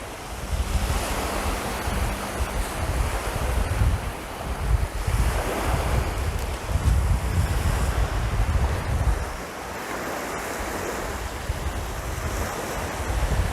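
Surf rolling onto Hua Hin beach in front of a resort in Thailand, steady washing waves with swells of louder breakers, heavy wind buffeting the microphone throughout, no voices.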